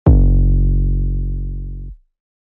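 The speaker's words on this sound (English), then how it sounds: "I like to add some saturation and distortion to my 808s" A single distorted, saturated 808 bass note from a Knockout sample with added saturation and distortion, struck sharply and sustained at full loudness before cutting off abruptly after about two seconds, alone with no voices.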